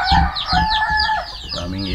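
Native chickens cluck in quick, repeated calls close by, with a low voice speaking underneath.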